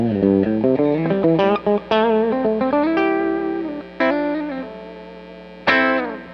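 Sterling Cutlass SSS electric guitar played on its bridge single-coil pickup, a run of loud, clear picked notes and chords with bright sustained tones and abrupt stops, played alone.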